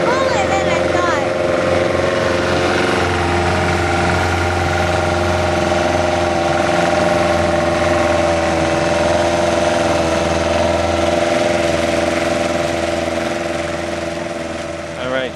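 A 1950 Mercury KE4 antique outboard motor runs at a loud, constant drone on a boat. The steady whine and rumble carry on throughout.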